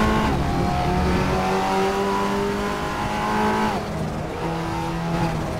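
Audi TT Cup race car in the RaceRoom racing game, its engine droning steadily and loud throughout with rising and shifting pitch as it accelerates, with a brief drop near the end before revving again.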